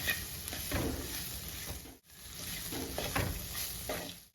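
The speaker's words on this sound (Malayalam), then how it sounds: "എല്ലാം കൂടെ നമുക്ക് നന്നായിട്ടൊന്ന് ഇളക്കി കൂട്ടാം." A Kerala-style stir-fry of chopped beans is stirred in a pan, making a soft, continuous sizzle with gentle, repeated scraping strokes and a brief dip midway, quiet and close, with no talking.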